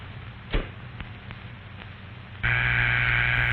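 After a few faint clicks and a thump on the line, a steady telephone tone comes in partway through and holds loud and continuous to the end, with no voices.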